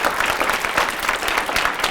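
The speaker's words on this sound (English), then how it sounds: "Give yourselves a big round of applause." Audience applause at a Harvest for Hunger recognition ceremony, a dense burst of clapping from a crowd throughout.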